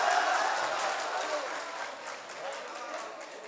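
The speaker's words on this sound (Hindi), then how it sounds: "जी मैं पढ़ रहा हूं तो जोरदार तालियां भी बजा दीजिए एक बार" Applause from an audience at a poetry recital in Balgaon, Amravati, a steady broadband patter of many hands clapping that holds fairly even, with faint crowd murmur mixed in.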